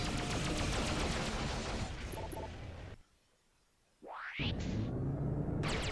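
Justice laser weapons in the space game Freelancer fire in a dense, loud crackling stream, then break off for a brief quiet, a rising electronic whoosh, and renewed firing.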